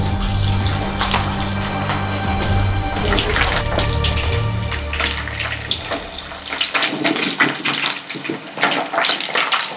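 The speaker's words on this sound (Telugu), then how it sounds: "మిగిలిన పీసులు కూడా ఆయిల్లో వేసుకొని డీప్ ఫ్రై చేసుకుందాం" Fish pieces deep frying in hot oil give a steady bubbling hiss that carries through the whole stretch, close and fairly loud, with no voices over it.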